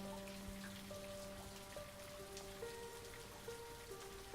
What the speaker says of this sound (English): It's been raining quite longer than usual.